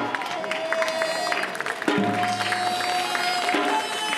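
Guests clap at a traditional Korean wedding ceremony at Gyeongwonjae for an international couple, a moderate, sustained spatter of applause with crowd murmur and faint talk, while a sustained tone enters partway through.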